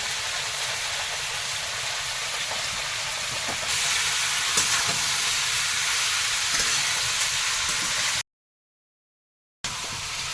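Food frying in a pan over a wood fire outdoors, giving a steady close sizzle and hiss with occasional stirring clatter, briefly cutting to silence near the end.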